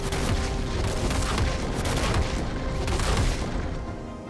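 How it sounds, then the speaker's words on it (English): Gangplank's Cannon Barrage ultimate in League of Legends fires a dense, continuous barrage of booming cannon blasts and explosions that stays loud throughout, then eases slightly at the end. "You can use Cannon Barrage to turn the tide of battle and potentially leave your enemies feeling extra salty."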